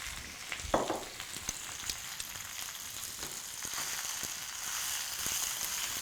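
Fresh spinach cooking down in a hot pan for garlicky greens, with a steady soft sizzle and crackle throughout and a few small pops and clicks.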